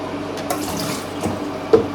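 Running tap water splashes steadily into a sink as an item is rinsed beneath it, with a few brief clunks of handling, close and fairly loud.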